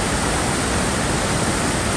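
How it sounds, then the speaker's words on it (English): A waterfall on a canoe route through a lake chain roars as dense, continuous rushing water, steady and loud throughout with no other sounds. "that's the waterfall we portaged around"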